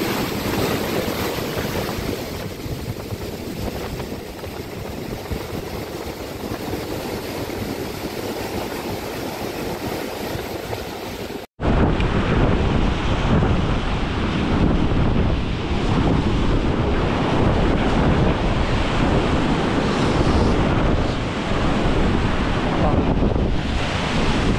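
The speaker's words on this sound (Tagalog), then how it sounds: "Grabe makasalpok ng alon doon sa ano," Heavy sea waves crash against rocks along the shore near a river mouth, a continuous loud surf roar with strong wind buffeting the microphone and a brief cut midway.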